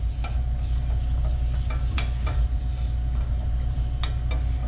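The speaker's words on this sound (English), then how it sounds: "Now let's stir this up, get all of the Mirepoix coated with olive oil." Mirepoix is stirred with olive oil in a pot, producing a dense, continuous sizzle with a few light utensil scrapes and taps, close and steady throughout, with no talking.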